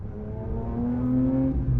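A Porsche 911 engine pulls hard through the gears, its rising tone climbing steadily to a peak near the end, loud and close from inside the car with no talk.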